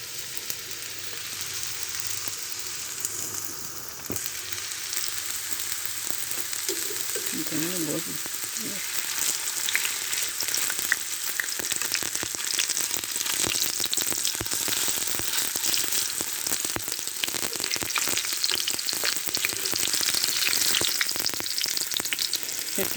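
Potato-tomato chops fry in hot oil with a continuous dense sizzle and crackling spatter that holds steady and loud throughout, while a voice briefly murmurs underneath.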